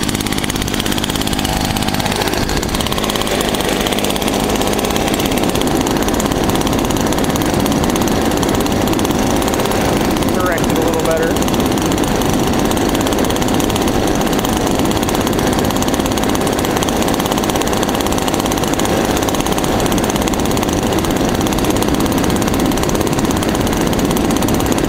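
A leaf blower runs nearby, a steady, loud engine drone continuing without letup, a constant whirring motor roar.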